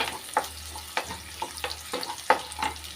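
Onion, garlic and ginger sautéing in a pan for a double beans gravy, a steady close sizzle broken by several sharp scraping stirs of a spatula.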